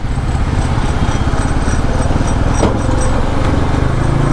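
A Bajaj Pulsar NS200 motorcycle with a new clutch cable runs steadily at close range, its engine giving a loud, even, throbbing hum with a regular pulse throughout and no talk.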